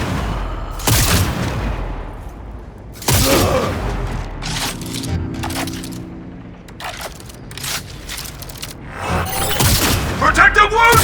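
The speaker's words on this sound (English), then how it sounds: "Using a shotgun!" Loud shotgun blasts and explosive booms in Cyberpunk 2077: Phantom Liberty, heavy bursts at the start and around three seconds, then clattering impacts and rapid shots near the end, mixed with game voices.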